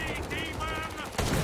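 Killing Floor 2 MP5 firing in a video game, a dense rapid burst of gunfire running nearly continuously with a louder surge near the end, with no talking over it.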